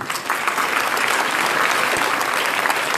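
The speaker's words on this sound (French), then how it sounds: "je peux là aussi l'applaudir" Applause from an audience in a hall during a New Year's wishes evening speech, dense steady clapping throughout, fairly loud and close.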